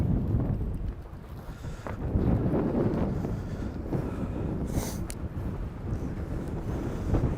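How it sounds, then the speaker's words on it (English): Steady wind roars and buffets across the microphone during an outdoor bike ride around Provincetown, a continuous low rumble with gusts and no break. "the wind's picking up here"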